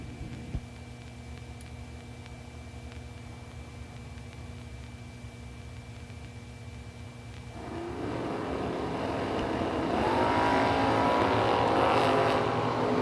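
Drag race launch between a big Pontiac GTO and a Camaro Roadster at a strip near Carrier Mills, Illinois: steady idling rumble, then engines roar up loudly around the midpoint and build into a broad, sustained wall of racing noise.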